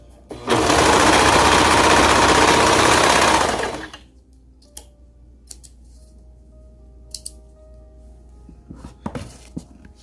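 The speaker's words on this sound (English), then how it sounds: "I'm going to put this folded edge into my serger, like this, and serge them all together" A serger overlocker stitches a folded leggings waistband edge in one loud, fast, steady whirring burst of about three seconds, then stops, leaving faint clicks and fabric handling.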